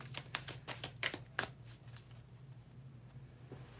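A deck of tarot cards is shuffled for a live reading, giving a quiet series of soft riffling snaps over a steady low hum in a still room.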